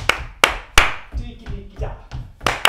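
Sharp hand claps ring out in a swing dance routine, four or five crisp strikes at an irregular beat with softer taps and shuffling in between, fairly close and loud.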